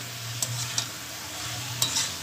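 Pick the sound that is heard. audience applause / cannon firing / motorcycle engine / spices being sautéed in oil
spices being sautéed in oil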